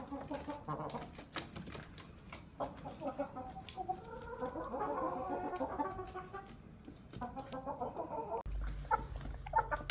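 Chickens, Jersey Giant and local dakan hens offered for sale in Namangan, cluck and squawk at close range in a busy, continuous chorus with scattered sharp calls.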